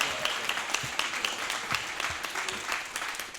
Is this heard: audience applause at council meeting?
yes